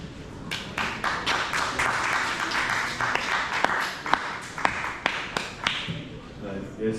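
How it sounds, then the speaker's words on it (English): A conference audience claps for a healthcare startup founder taking the stage: a moderate, fairly dense patter of hands that thins to scattered single claps toward the end, with some voices mixed in. "Please give him a round of applause."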